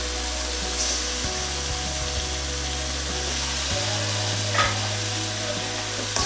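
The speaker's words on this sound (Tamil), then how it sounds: "சிக்கன் நல்லா வதக்கணும்." Chicken sautéing in a pan with salt, onion, tomato and ginger-garlic paste, a steady hissing sizzle over a strong low droning hum, with a faint stirring scrape or two.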